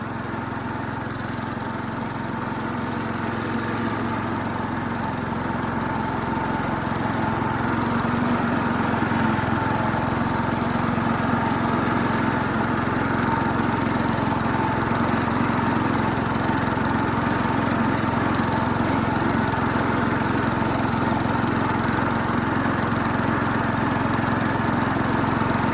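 An Oliver diesel tractor engine runs steadily at a constant idle, a loud, continuous throbbing drone with no breaks or changes in speed.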